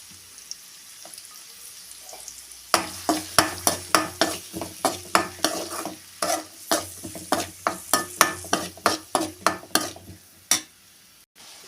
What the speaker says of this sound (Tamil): வெங்காயம் வந்து நல்லா வதங்கணும் ஃப்ரெண்ட்ஸ்.